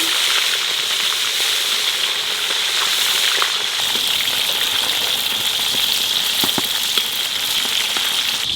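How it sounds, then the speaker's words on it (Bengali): Fish pieces seasoned only with salt and turmeric fry in hot oil, a loud, steady crackling sizzle with scattered pops, close up and continuous. "এই মাছটা খালি নুন হলুদ দিয়ে ভাজবো"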